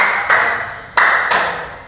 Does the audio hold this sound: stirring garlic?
no